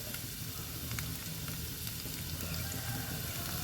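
Chopped onion sizzling and frying in about three teaspoons of hot oil in a pan, a steady, dense crackle that runs continuously at close range with no talking.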